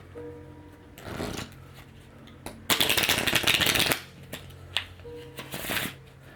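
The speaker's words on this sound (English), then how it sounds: "3 pretty good riffle shuffles" Three bursts of riffle shuffling, a crisp flutter of cards in each, the middle one loudest and longest, with quiet pauses between.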